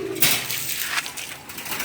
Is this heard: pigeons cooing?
yes